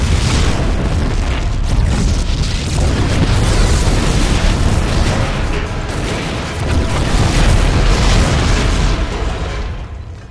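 Loud, continuous rumbling explosions fill a StarCraft 2 game scene, a dense roaring barrage of booms with no pauses that fades slightly at the end.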